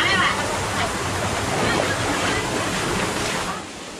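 A remote jungle waterfall pours steadily into pools, a dense rushing roar that holds through the moment before easing slightly at the end, with people talking over it.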